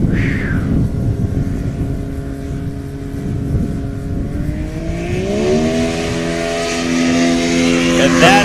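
A STOL plane fitted with a snowmobile engine takes off at a Rocky Mountain STOL competition in Pinedale, Wyoming, its steady engine drone rising in pitch as it climbs away, with crowd or commentary noise in the background.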